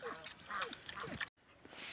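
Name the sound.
ducks quacking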